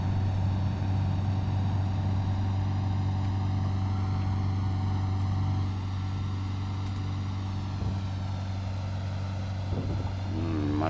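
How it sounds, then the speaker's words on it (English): Twin piston engines of a warbird aircraft in Microsoft Flight Simulator drone in a steady, loud, continuous roar with a strong low hum, unbroken throughout and with no talk over it. "listen to those twin engines roar"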